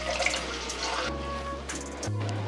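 Leafy batua greens being washed by hand in water, with steady running and splashing water and a low hum underneath, continuous for a couple of seconds with no talk.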